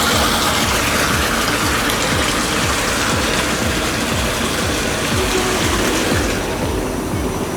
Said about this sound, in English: The water was sucked from the storage tank into the mixer tank.